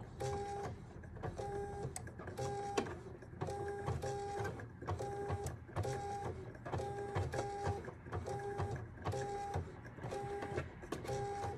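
A regular sewing machine with dual feed stitching a blind hem on pants, a steady rhythmic whirring chatter in short repeating bursts, moderately quiet and alone without voices.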